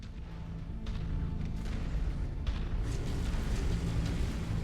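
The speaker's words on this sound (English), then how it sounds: "Caught up in the ammo explosion." In the video game Mechwarrior 5, a mech's ammunition explodes in a dense, rumbling roar of blasts with a couple of sharper bursts, loud and sustained amid heavy combat noise.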